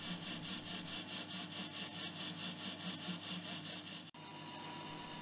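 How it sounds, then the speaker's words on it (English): Metal lathe turning the outside diameter of a large 20mm steel nut, giving a steady, faint scraping and rasping cut with a rhythmic pulse, and a brief dropout near the end. "Time to clean up the outside diameter"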